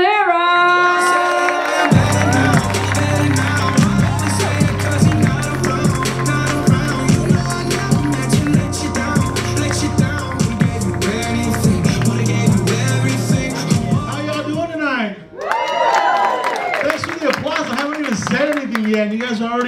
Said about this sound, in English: you guys are already applauding